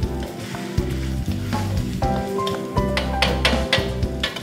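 Pea eggplants and round Thai eggplants drop into a hot pan with large chicken pieces for a green cashew curry, setting off a loud, steady sizzle with clattering taps and stirring up close.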